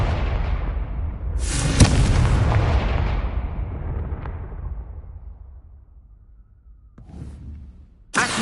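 Confringo fire-blast spell in Hogwarts Legacy bursting in a loud booming explosion that rumbles and slowly fades over several seconds, followed by a second sharp blast near the end.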